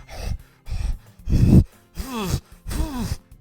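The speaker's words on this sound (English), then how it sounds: "That was her panting." A Doki Doki Literature Club character pants in breathy, rhythmic bursts, five close voiced breaths with short pauses between them and no other sound.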